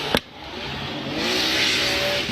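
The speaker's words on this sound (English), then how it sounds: "You can hear that anti-lag just firing off." At a Formula Drift qualifying event, a drift car engine roars at high revs with anti-lag popping and firing, a loud sustained engine note with a sharp bang at the start and end.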